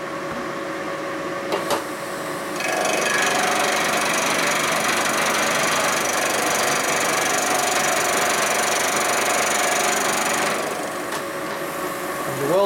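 A machine cut on a 1972 Harley-Davidson Sportster Ironhead engine case being repaired, heard as a steady, loud grinding drone that holds for about eight seconds between quieter machine hum at the start and finish.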